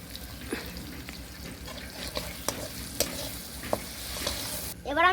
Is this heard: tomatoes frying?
yes